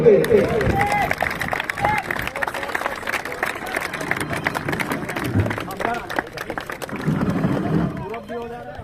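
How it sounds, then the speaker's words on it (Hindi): A crowd at an outdoor athletics meet on an oval ground applauds to welcome guests, with a long run of scattered, dense clapping mixed with crowd murmur and announcer talk. "तमाम अतिथियों का तालियों की गड़गड़ाहट के साथ स्वागत करेंगे"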